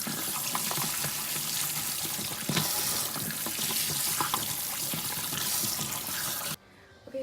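Fresh corn rinsed under a running kitchen tap, a steady close splashing rush of water with small shifting bursts, cutting off abruptly near the end.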